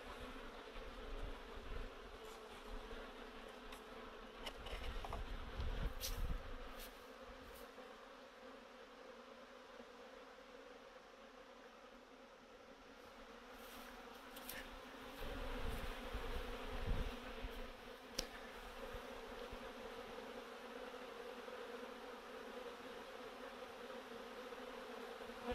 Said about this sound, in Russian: Пчелы сидят, ждут, когда хозяин откроет двери.